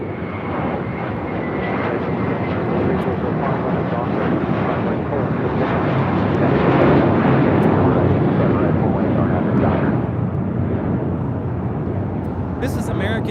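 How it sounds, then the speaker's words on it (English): An American Airlines Airbus A321 taking off at LAX, a loud, sustained jet engine roar that swells toward the middle and then slowly fades, with wind buffeting the microphone. "This is American Airlines 2656 taking off to Los Cabos on an A321"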